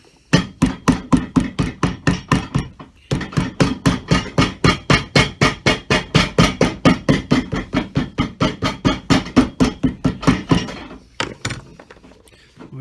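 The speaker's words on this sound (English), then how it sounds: "So we're going to give that a little bit of hammer time" Rapid, loud hammer blows strike an Allen Edmonds shoe during a Danite sole repair, dozens of sharp close-up hits in a steady rhythm for about ten seconds, a brief pause near the start, then a few scattered taps.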